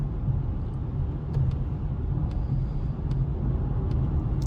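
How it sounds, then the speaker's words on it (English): Steady low road and motor hum from inside a 2024 Polestar 2 Performance electric car gently accelerating up a highway merging lane to 80 mph, an even continuous rumble with no voices. "to do a gentle acceleration up to 80 miles an hour, aiming to hit 80 at the end of this lane, the merging lane"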